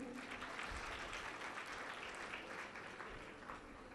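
Faint, distant audience clapping during a religious discourse by a Jain nun, a continuous soft patter that holds evenly and fades slightly toward the end.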